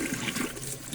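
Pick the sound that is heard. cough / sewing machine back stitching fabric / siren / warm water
warm water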